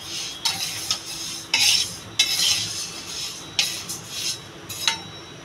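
Moong dal being stirred and fried in a pan, with quiet, intermittent scraping and clinking strokes of a utensil against the metal at an irregular rhythm.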